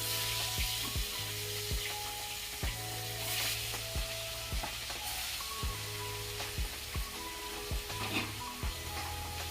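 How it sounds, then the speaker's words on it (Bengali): Small tangra fish frying in hot oil, a dense steady sizzle with crackling spatter and repeated knocks of a utensil against the pan, close and loud with no talk. "আজকে এই মাছগুলো খুবই ফুটছে, ফুটতে গায়ে আসছে শুধু"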